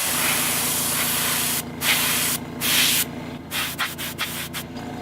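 Airbrush spraying wet airbrush makeup for haunt work, a steady close hiss of air broken into several short bursts of differing length, with brief pauses between them and no talking.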